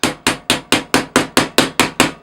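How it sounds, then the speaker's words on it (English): A ball peen hammer taps steadily on the steel grill of a 1960 Tonka Rescue Squad toy truck, working out a dent. About ten sharp, evenly spaced metallic strikes ring out close and loud with no talk. "we're going to try to use the round edge of this ball peen to get that curve back in our grill"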